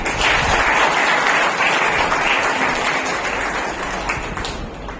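Loud, dense applause from an audience at an oratory award ceremony rolls on steadily for several seconds and eases slightly toward the end.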